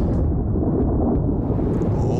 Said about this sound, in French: Ça va tourner carrément à l'orage ici.